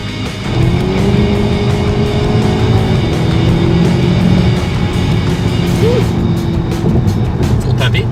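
An Audi S3 pulls away under hard acceleration, the engine note rising steadily in pitch and holding loud and close for several seconds, with a brief pitch change near a gear shift and speech faintly over it.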